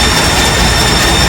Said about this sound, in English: without earplugs the engine room sounds like this